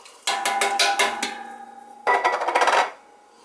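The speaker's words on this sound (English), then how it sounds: "put the diced tomatoes in there" Canned diced tomatoes tipped into a soup pot of potatoes and meat, with a rattling, clattering run of metallic knocks and scrapes, a pause, then a second louder burst, close up with no talk.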